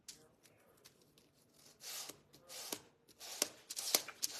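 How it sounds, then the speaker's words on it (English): Soft, scratchy rubbing strokes repeat irregularly, growing a little louder toward the end, close by and quiet, with no voices. "I'm just sanding."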